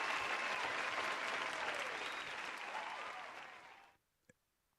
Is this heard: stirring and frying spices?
no